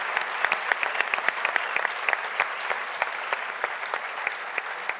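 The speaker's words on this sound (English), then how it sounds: "Let's give them a big round of applause." Conference audience in a hall gives a round of applause, steady mid-level clapping from many hands with distinct individual claps standing out, sustained evenly throughout.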